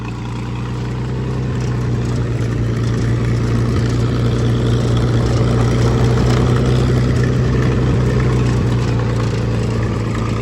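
An old steel-wheeled Oliver 70 tractor engine runs steadily as it drives, giving a loud, continuous low chugging drone that swells slightly and holds without a break.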